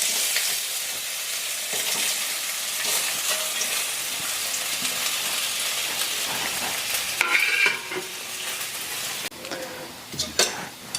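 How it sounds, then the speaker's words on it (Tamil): Steady oil sizzling and crackling as potatoes fry in an oil pan fills the whole stretch, loud and close, with a few sharper pops and clatters toward the end. "இந்த உருளைக்கிழங்கு வந்து எண்ணெய் சட்டியில் போட போகிறேன்."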